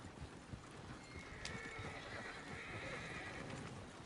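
A horse clip-clops along and whinnies in a Red Dead Redemption 2 game scene, hoofbeats steady and fairly faint with one clear neigh standing out partway through.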